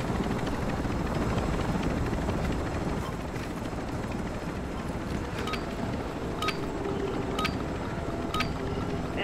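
A helicopter lands in the video game Call of Duty, its rotor chop and engine roar loud and constant throughout, with wind buffeting and a few faint clicks.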